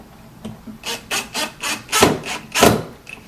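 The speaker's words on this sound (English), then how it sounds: "I'm just going to screw them right in place." A screw is driven into a wooden dovetail drawer box, giving a series of rhythmic grinding, rasping bursts from the driver biting into the wood, close and fairly loud, about six pulses in quick succession.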